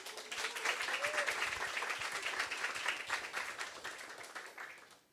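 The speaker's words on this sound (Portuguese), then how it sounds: "Uma salva de palmas." Applause from an audience at a course session, steady dense clapping that swells and holds for several seconds before tapering off, moderately distant with a few voices mixed in.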